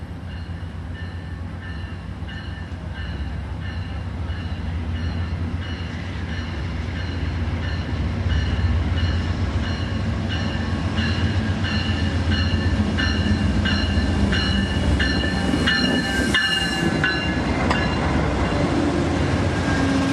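Amtrak passenger train rolling slowly across a trestle into San Luis Obispo, a steady rumble with rhythmic wheel clicks and faint squeals, heard from onboard and growing slightly louder.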